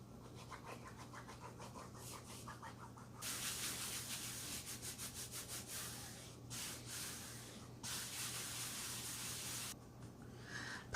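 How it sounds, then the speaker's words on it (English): Glued paper on a book journal is burnished down with steady, dry rubbing strokes, a soft scratchy friction sound that comes in rhythmic passes and longer sustained swipes, quiet and close with no talking. "Now I'm just gonna burnish all this down."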